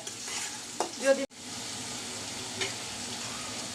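Grated radish frying in a pan with a steady, moderate sizzle and some stirring scrapes, briefly cut by a sharp break before the frying noise resumes.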